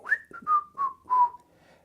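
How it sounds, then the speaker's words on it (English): Someone whistles a short little tune close by, a softly falling run of four sustained notes with brief gaps, followed by a faint trailing note. "that is when the little whistling tune began"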